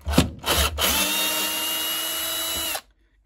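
Power drill backing screws out of a Samsung Ecobubble washing machine door during repair, a couple of short stuttering bursts followed by one steady close whine that stops abruptly.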